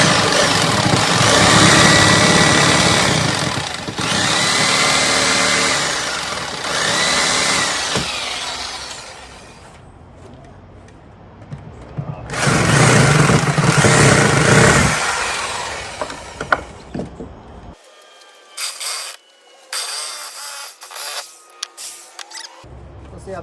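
A power saw cuts pallet wood in long, loud, rough bursts with pauses, then gives way to clattering handling noises and faint talk.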